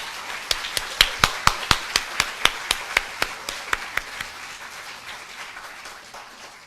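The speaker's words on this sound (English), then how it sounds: "Let's please give Justice Carpio one more round of applause." An audience at a formal forum on Philippine island territories claps in a crisp, evenly paced rhythm of sharp hand claps that holds for several seconds and then fades into room murmur.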